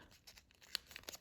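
Paper creases and crinkles softly during origami balloon folding, a few faint, quick rustles and crackles close by, with one sharper crisp snap of the sheet.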